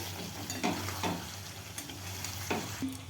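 Kadai chicken sizzles in a pan with its cooked masala and released oil, while a spoon scrapes and stirs in several distinct strokes over a steady frying hiss.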